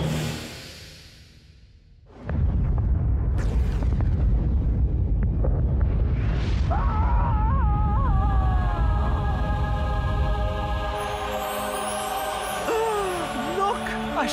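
Cartoon spaceship self-destructs in a soccer cartoon: after a quiet lead-in, a loud roaring explosion bursts in and rumbles on steadily, with warbling tonal effects and music rising over the blast.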